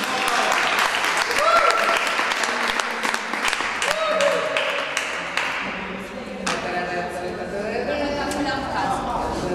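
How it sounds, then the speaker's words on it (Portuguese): An audience at an Ignite talk night in Abrantes claps steadily and densely for the full nine seconds, loud and close, with a few voices heard through the applause. "E a Marta Onofre e a Inês Xavier, uma salva de palmas"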